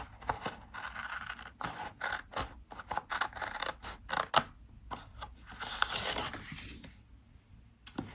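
Scissors snip through paper planner stickers in a run of close, crisp cuts with soft rustling and handling of the sheet between them, quiet and without talk.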